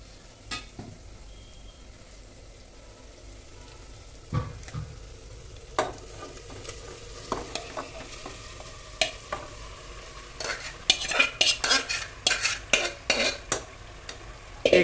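Marinated chicken goes into a hot pot for chicken dum biryani, sizzling softly under repeated scraping and clinking stirs that grow busier and louder toward the end. No one speaks.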